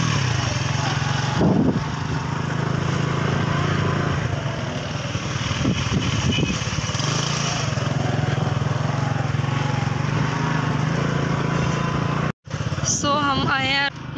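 A motorcycle engine runs steadily close by with a continuous buzzing drone, while people talk over it throughout, followed by a brief cut and some handling noise near the end.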